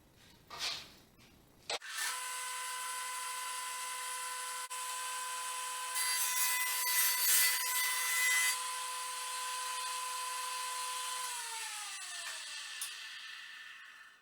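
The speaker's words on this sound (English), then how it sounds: "Today I'm going to use my 6-inch jointer. So let's start making some noise." A 6-inch jointer planes the rough edge of a wooden board, its motor spinning up to a steady high whine, cutting louder for a few seconds midway, then winding down as the cut ends.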